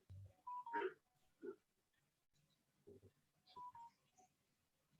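An incoming call on a telephone rings as a few faint, short electronic tone bursts with pauses between them in a quiet room.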